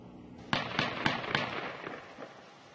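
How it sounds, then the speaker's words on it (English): Gunshots ring out as police officers open fire in a residential neighborhood in Villa Hills, a rapid burst of four or five sharp cracks followed by fainter echoing reports heard from a distance. "That is the sound of officers opening fire this morning here in Villa Hills."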